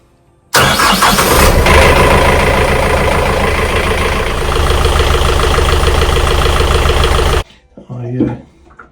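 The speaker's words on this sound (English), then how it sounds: "Right, well, we'll fire up." A Yanmar 4JH marine diesel on a sailboat cranks and catches, then settles into a loud, steady idle for several seconds before cutting off abruptly, followed by brief low sounds.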